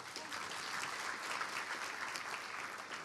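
Audience applause at an annual general meeting of a women-in-transport network, a continuous even patter of many hands clapping, fairly soft and slightly distant, with no voices.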